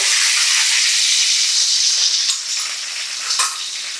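Mustard seeds and curry leaves hit hot oil with a loud, dense, continuous sizzle and crackle, close up, with a few sharper spits and pops as the frying settles slightly toward the end.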